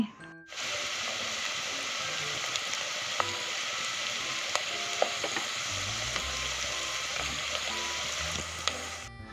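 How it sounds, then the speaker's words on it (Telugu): Onion pieces with turmeric and salt fry in a pan for mutton gongura curry, a loud continuous sizzle that starts abruptly, with scattered stirring clicks and a low rumble later, heard up close. "ఇక్కడైతే నేనైతే వేపుకుంటున్నాను మంచిగా వేపుకోవాలి"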